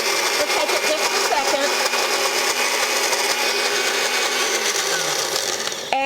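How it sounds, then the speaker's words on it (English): A blender runs continuously at high speed on an olive oil and vinegar dressing, loud and whirring throughout with a steady pitch that drops as the motor winds down near the end. "And the blender emulsifies it for you."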